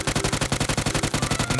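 Rapid automatic gunfire at an indoor shooting range in a video game, a steady fast stream of loud, evenly spaced shots without pause, close and dominant.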